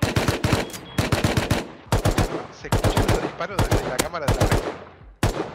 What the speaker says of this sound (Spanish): Se escucha el disparo